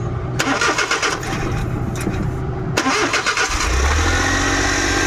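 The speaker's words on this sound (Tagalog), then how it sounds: "So papaanda rin natin, papakita ko sa inyo na mataas yung minor niyan." A Mazda Scram DA64 with a bad turbo cranks over twice and fires up, then settles into a loud, high idle close by, with no talk over it.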